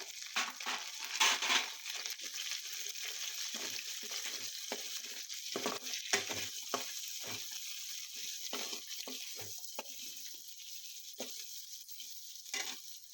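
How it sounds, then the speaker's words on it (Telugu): Okra pieces fry in hot oil for an aloo bhendi dish, giving a steady high sizzle with scattered crackles and occasional stirring scrapes, close and continuous throughout. "ఆయిల్ వేసుకొని మనం ముందుగా కోసి పెట్టుకున్న బెండకాయ ముక్కలు కూడా వేసేసి ఇది మెత్తపడేదాకా ఫ్రై చేసుకోవాలి."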